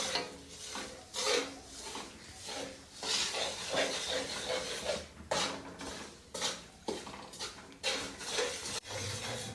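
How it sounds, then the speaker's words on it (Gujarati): Jaggery dropped into hot ghee in a home kitchen pan, a steady hiss and sizzle broken by scraping and clinking of a metal spoon against the vessel, close and busy throughout. "તો ઘી ગરમ થઈ જાય એટલે એમાં નાખી દેવાનો ગોળ"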